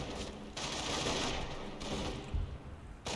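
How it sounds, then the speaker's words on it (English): Rapid bursts of machine-gun and rifle fire rattle through a Company of Heroes battle as Pioneers and Grenadiers advance, a dense continuous volley with brief gaps and a louder thump near the end. "Taking fire."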